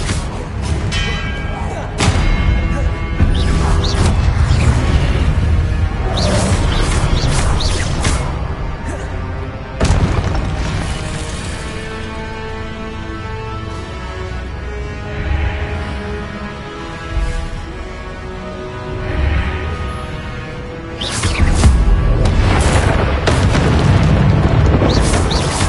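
Expelliarmus spell being cast in a Harry Potter video game: loud booming blasts with a crackling impact at the start, another sharp hit partway through and a heavy burst near the end, over a rumbling ambient backdrop.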